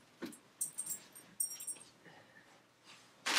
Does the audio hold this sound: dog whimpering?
yes